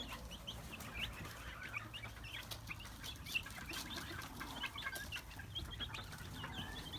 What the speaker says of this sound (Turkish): Horozumuz deliriyor ama yapacağım bir şey yok.